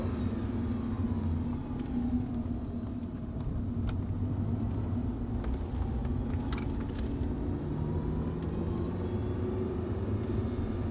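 An Audi R8 engine drones steadily from inside the car on the Paul Armagnac racing circuit, a loud, continuous rumble with slowly rising and falling pitch as the car accelerates, plus faint rattles in the cabin.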